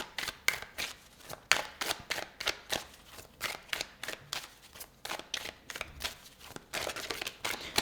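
Tarot cards being shuffled and drawn, with a close series of crisp riffling and slapping card sounds in irregular quick bursts throughout.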